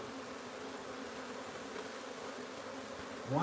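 Bees massed in a wild beehive, a faint, steady, even buzzing hum throughout, with a brief louder rustle right at the end.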